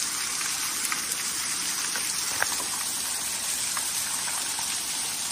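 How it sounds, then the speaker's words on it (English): Dense, steady rushing water at Linda Falls Preserve fills the scene with a constant hiss and roar, unbroken throughout like a nearby waterfall. "Check out this waterfall."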